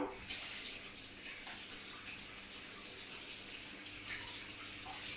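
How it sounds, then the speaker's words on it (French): A baking mould rinsed under a running tap, a soft, continuous stream of water splashing steadily and faintly throughout. "je vais rincer mon moule sous l'eau, comme toujours"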